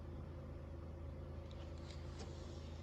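A car engine rumbles low and steady at idle, moderately faint and unbroken, with no voices over it.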